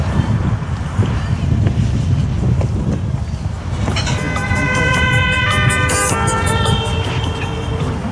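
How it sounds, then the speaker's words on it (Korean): Steady wind roars and buffets the microphone by the sea in Sokcho on a cold day, with a faint tonal hum and a few distant clinks joining partway through. "바람이 많이 불어"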